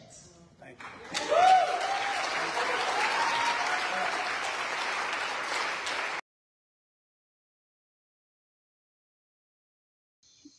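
Crowd of people, young and old, cheering and applauding inside a building with stained glass windows, a loud sustained roar of claps and shouts that swells after a quiet start and cuts off abruptly, followed by silence.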